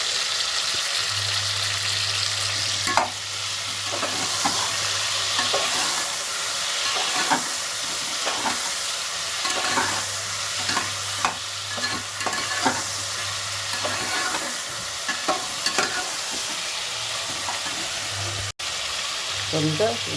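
Tomatoes fry in oil for a tomato pickle, giving a steady close sizzle with repeated stirring scrapes, and a low hum runs through much of it.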